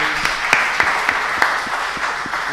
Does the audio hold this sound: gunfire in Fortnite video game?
no